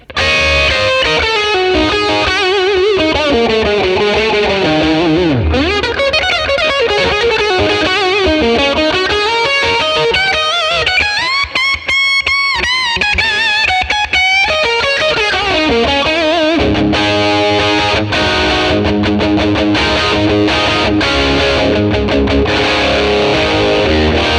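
Les Paul electric guitar lead tone with reverb added, played through a 1957 Fender Tweed amp capture: loud, sustained overdriven single-note lines and bends, with a sparser stretch of choppier notes toward the end.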